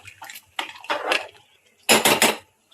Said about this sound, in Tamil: இந்த ஸ்டேஜ்ல நம்ம ஊற வச்சிருக்க அரிசியும் பருப்பையும் உள்ள சேர்க்கலாம். நல்லா கிண்டி விட்டுலாம்.